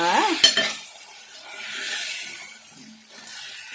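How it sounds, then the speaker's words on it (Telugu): Raw potato pieces are tipped into a hot frying pan and stirred for a potato masala curry, giving a near clatter, then a steady soft sizzle with scraping stir strokes, no voices. "ఇప్పుడు ఆలు ముక్కలు వేసుకున్నామండి"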